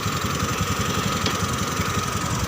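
A fuel-injected Honda Beat Pop motorbike engine idles steadily with the side-stand switch fitted, a continuous close, loud low putter with a fast, even pulse throughout and no talking.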